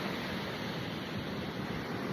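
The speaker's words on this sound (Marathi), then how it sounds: "हा आमचा आचऱ्याचा स्वच्छ आणि सुंदर असा समुद्र किनारा" Steady roar of sea surf washing onto Achara beach, broadband and continuous, with wind rushing across the microphone.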